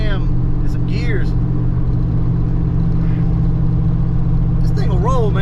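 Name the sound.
Vortech-supercharged Fox body car accelerating hard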